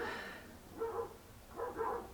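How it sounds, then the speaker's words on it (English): Dogs bark in the background, three soft, fairly distant bursts of barking spaced across a short stretch, with no talking over them. "And there's a bunch of dogs barking behind me as well."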